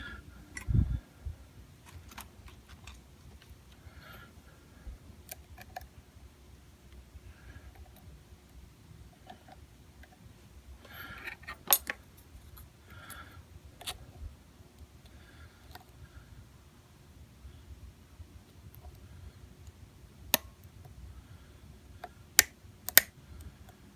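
A pick works inside a lock, giving faint, scattered tiny clicks and ticks over a quiet background, with a few sharper snaps near the end.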